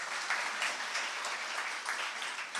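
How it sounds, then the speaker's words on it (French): Applause from an audience at a francophone media anniversary gathering, steady and sustained throughout with dense overlapping clapping at moderate volume. "vous avez raison de l'applaudir"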